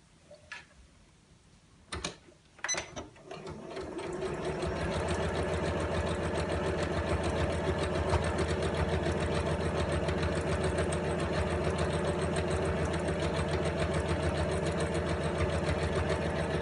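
A sewing machine runs down a tote bag handle after a few clicks and thumps, settling into a loud, steady, rapid mechanical hum that continues without pause to the end.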